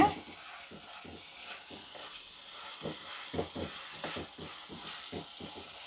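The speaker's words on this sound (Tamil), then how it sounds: "நம்ம இப்போ மிளகாத்தூள் சேர்த்து போகிறோங்க." Chili powder frying in a pan with eggplant for a Tamil broad bean (mochai kottai) curry: a low, steady sizzle with repeated soft scraping and stirring clatters from the pan throughout.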